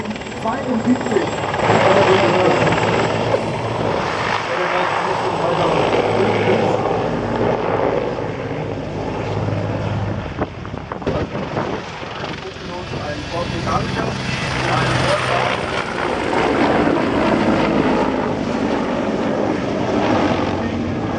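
A military helicopter flying at an air show, its rotor and engine drone loud and continuous, rising and fading as it passes, with someone talking over it throughout.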